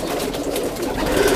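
A Teddy pigeon, a breeder's fancy bird, coos softly and continuously at close range in a brief low murmur.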